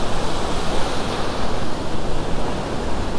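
Ocean waves break on a beach where people fish for tailor, also called bluefish. The surf makes a steady, loud, hissing roar that fills the whole clip, with no voices.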